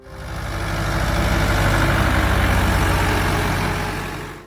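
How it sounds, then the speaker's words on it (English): A Ford 5000 tractor's diesel engine runs at a steady idle, close and loud, with an even, throbbing rhythm that swells in and fades out. "When the engine fires, the sound is smooth and even, a calm diesel tone that settles into a steady rhythm"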